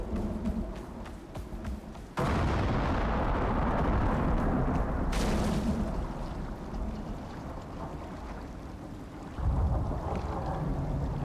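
Thunderstorm in the survival video game Icarus: a sudden loud, sustained rumbling crash of thunder over steady rain, swelling again near the end, with no talk.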